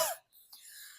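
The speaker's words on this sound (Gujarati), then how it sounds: "અરે આ ઉધરસ તો મારું હાવ લોહી પીધું." A single short, sharp cough close to the mic, followed by a quiet trailing breath in an otherwise still room.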